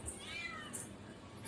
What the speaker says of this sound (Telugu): నీకు రారా పిల్లి